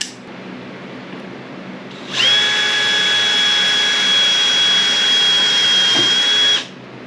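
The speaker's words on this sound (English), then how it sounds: "So I'm going to drill these in real quick." A power drill driving screws whirs at high speed for several seconds after a quiet start, then cuts off abruptly, loud and close.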